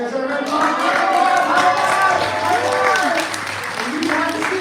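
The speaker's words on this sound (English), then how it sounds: "We're going to give Vio instead a little bit of pity applause. Like golf applause." Audience at a magic show giving scattered, polite clapping while people talk and laugh over it, the applause thin and continuous beneath the voices.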